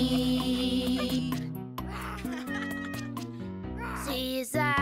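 Cartoon-style cat meows sung in a German children's song about pets, repeated bright meowing voices set over a bouncy musical backing with other singing, the meows imitated by a voice.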